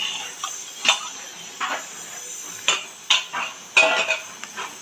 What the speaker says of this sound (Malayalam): നമുക്ക് ഇതിലേക്ക് കുറച്ച് വെള്ളം ഒഴിച്ച് കൊടുക്കാം എന്നിട്ട് എല്ലാം ഇളക്കാം